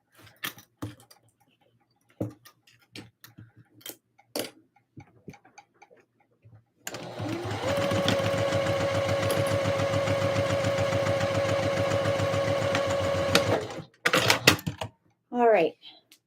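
A home sewing machine runs a steady, even buzz for about six seconds, stitching the side seam of a Christmas dress, bracketed by scattered clicks, fabric handling and brief talk before and after.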